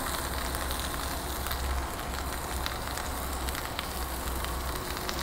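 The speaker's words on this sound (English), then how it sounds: "you can cook this right here on the grill" Dijon skillet potatoes and broccoli cooking on an outdoor grill, a constant crackling sizzle with a low steady rumble, even and unbroken throughout.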